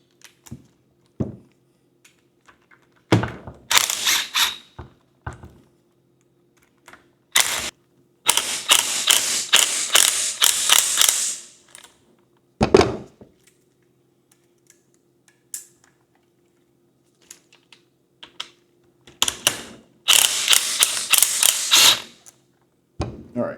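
A small socket wrench ratchets in close, loud bursts of rapid clicking separated by pauses while bolts are loosened on a Kranzle 1622 pressure washer.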